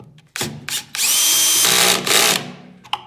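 Power drill driving screws into a wooden nuc quilt box: short bursts of motor whine, then a sustained high-pitched screw-driving run of about a second and a half that strains and winds down, close and loud, no talk.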